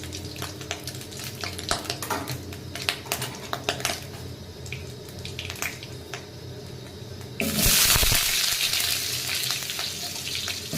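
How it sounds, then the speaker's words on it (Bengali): Sliced potatoes frying in a small amount of oil in a home kitchen, a soft sizzle with clinks and stirring, then a louder rushing hiss toward the end. "দেখো এখন আলু আমি ফ্রাই করছি খুবই কম তেলে"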